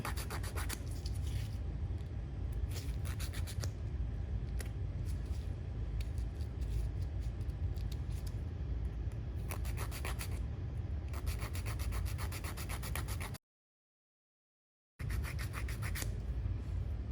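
A nail file rasps straight down the sides of a fingernail in quick, steady short strokes, close and continuous, with a brief silent gap before the filing resumes.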